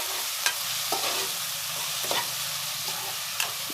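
Onions frying in a pan for a sweet tamarind curry, a steady soft sizzle punctuated by regular spatula stirs every half second or so, close and moderately loud, no talking.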